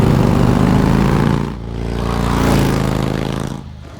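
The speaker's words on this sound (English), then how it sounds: "On the road, Selena on her motorbike." A motorbike engine revs in the Batman Telltale Series game, Episode 5: City of Light. A loud, steady drone dips briefly, swells again and then fades toward the end, with no talk over it.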